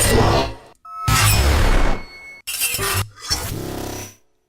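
Several sharp metallic swipes and ringing clangs, each bursting loud and decaying over a second, separated by brief silences.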